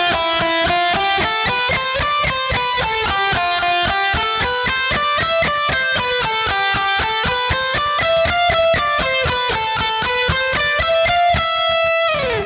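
Fast, continuous run of distorted electric guitar notes, evenly picked and loud, ending on a held note.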